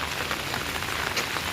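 Heavy monsoon rain in Dharampur pouring down steadily, a dense close hiss of drops drumming on surfaces with no voices.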